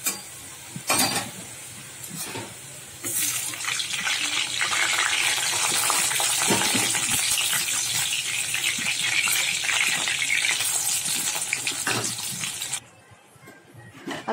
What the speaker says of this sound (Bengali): আলুর মধ্যে একটু নুন হলুদ দিয়ে দিলাম, দিয়ে আলুটা একটু ভেজে নেবো